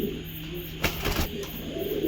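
A pair of cream-bar racer pigeons coos softly and close by, a low steady murmur with a couple of brief louder flutters in the middle.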